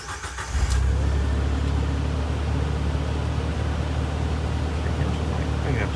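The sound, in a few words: 1995 Jeep YJ Wrangler engine running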